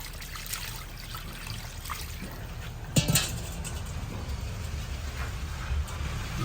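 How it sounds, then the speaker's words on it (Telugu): Water pours steadily into a large pot of fish curry, a continuous close trickling with a single clank of the vessel partway through, no talk. "ఇప్పుడు నీళ్ళు పోసుకుందాం."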